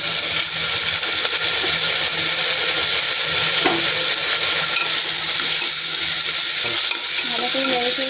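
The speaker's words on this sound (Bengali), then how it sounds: "ভালো করে নেড়ে চেড়ে নেবো।" A loud, steady sizzle of tomato frying with chilli and ginger-garlic paste in a pan for a chickpea and potato curry, with faint scraping and stirring through the constant hiss.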